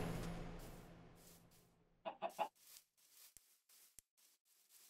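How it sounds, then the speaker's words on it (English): Chickens in the video game Minecraft give a few quick, quiet clucks in a short cluster after a soft hiss, followed by scattered faint clicks. "Oh, chickens."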